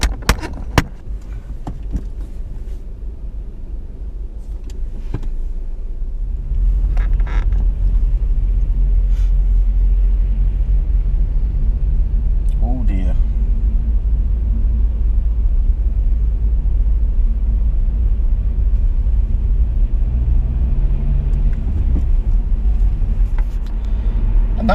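A car idling and creeping forward in queued traffic on a snowy road, a low steady engine rumble that settles into a constant drone after a few seconds of cabin knocks and clicks.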